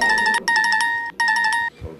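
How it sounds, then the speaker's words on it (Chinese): Mobile phone ringtone, a bright electronic melody of repeated tonal bursts in three phrases separated by brief gaps, loud and close with nothing else over it. "手机铃响或聊天讯息"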